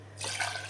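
Milk pours from a container into a glass in a home kitchen, a brief close liquid rush that starts abruptly and carries on steadily over a low background hum.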